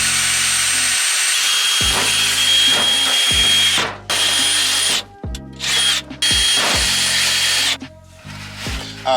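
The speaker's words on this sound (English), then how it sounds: "I just grab the drill and yeah," Power drill boring a pilot hole for a trailer winch install, a loud close whine that runs in several bursts, stopping and restarting as the trigger is released and pressed again.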